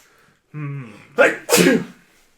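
A single loud sneeze, preceded by a drawn-in breath, heard close up in a quiet room.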